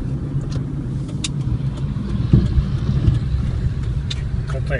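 A car drives along a road in Cuba toward Santiago de Cuba, its engine and road rumble steady and close throughout, with a few faint clicks on top.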